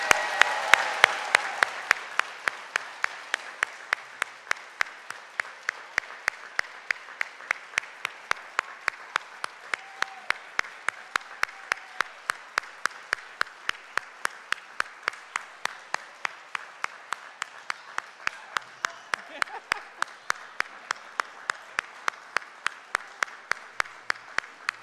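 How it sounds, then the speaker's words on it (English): An audience applauds Hall of Honor inductees and their families at an athletic induction ceremony, with sustained, even clapping that starts fuller and fades gradually at moderate distance. "I want to ask for one more round of applause for our inductees and their families"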